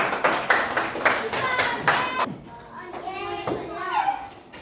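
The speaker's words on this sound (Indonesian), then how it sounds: "Iya, pintar. Tepuk tangan." A group of children claps rapidly and together for a couple of seconds, then kids' voices chatter and call out.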